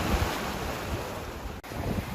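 Strong wind and heavy, rough sea surf roar steadily around a Pogo 30 sailboat racing offshore between Madeira and Martinique in 25 to 30 knots, with broadband wind buffeting the microphone throughout and a brief dip near the end.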